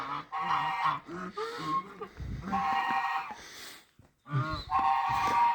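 Geese honking repeatedly in bursts, fairly close and loud, with short pauses between the calls.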